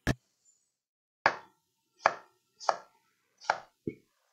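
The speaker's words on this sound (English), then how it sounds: "The smallest of the pieces are going to be when you're chopping it this way." A knife chops peppers on a cutting board, giving six sharp, close thuds with uneven pauses between them and silence in the gaps.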